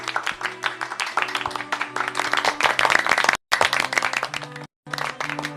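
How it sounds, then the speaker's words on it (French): Villagers in a Minecraft-style story clap for their mayor, Monsieur Faumétor, with a steady patter of hand claps over background music, broken by two brief silent gaps. "Veuillez applaudir notre maire,"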